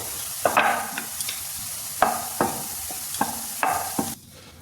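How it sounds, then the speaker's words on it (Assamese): Nimki strips fry in hot oil for a crispy snack, a steady close sizzle broken by several sharp stirring and scraping strokes of a utensil in the pan, alone without talk. "মই আকৌ পাছৰকেইটা নিমকিও ইয়াত তেনেকৈ বেলি পেলাই কাটি পেলাই ইয়াৰ তেলত দি দিছোঁ"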